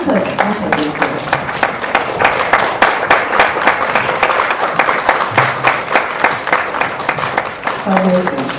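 A standing audience applauds at a celebration of a poetry collection by the poet and songwriter Edvīns Jansons, giving sustained, rhythmic clapping that keeps going for several seconds, with brief voices near the end.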